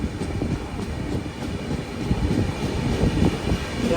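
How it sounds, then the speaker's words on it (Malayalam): Millennium Express train pulling into Thrissur railway station on platform two, a steady low rumbling with soft rhythmic wheel thumps, growing slightly louder as it arrives. "8:34 ട്രെയിൻ ഇതാ തൃശ്ശൂർ റെയിൽവേ സ്റ്റേഷനിലേക്ക് എത്തിക്കൊണ്ടിരിക്കുകയാണ്"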